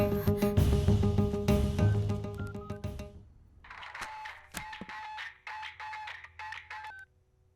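An outgoing phone call is placed: a dense, loud stretch of sound gives way to a run of short, clipped electronic tones and beeps that repeat at a quick, uneven rhythm before fading out.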